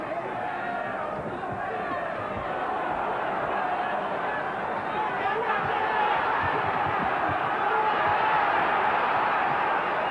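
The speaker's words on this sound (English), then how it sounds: "the crowd are really behind them" A large boxing crowd roars and cheers continuously in an arena during a Najib Daho fight, a dense steady wall of voices with a commentator talking over it.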